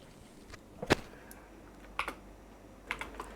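Typing commands into a terminal on a computer keyboard during a software testing demo: a few sparse, quiet, close key clacks in small clusters against a near-silent room.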